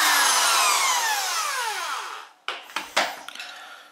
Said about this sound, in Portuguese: então nós vamos usar aqui uma furadeira, uma brocazinha bem fininha, e vamos fazer essas perfurações